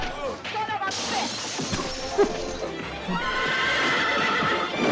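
Horses whinny loudly amid clattering hooves and a sudden crash, with people talking in the background.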